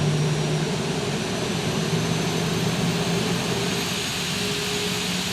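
Boeing 737-800 CFM56 jet engines in the X-Plane 12 flight simulator, a steady, loud, continuous roar and whine with a low hum underneath, unbroken and with no talking.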